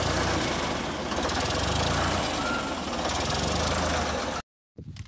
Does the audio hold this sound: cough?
no